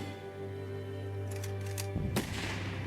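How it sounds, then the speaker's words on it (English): Gunfire in the Roblox Titanic game, heard as a loud sharp burst of several rapid shots near the end, over a steady droning game background. "Another officer's been shooting at me."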